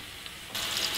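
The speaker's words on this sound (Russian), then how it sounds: "Мясо нужно будет обжарить с двух сторон, примерно по 6-7 минут с каждой стороны." A soft hiss suddenly swells into a loud, steady sizzle of meat frying in hot oil in a pan close by.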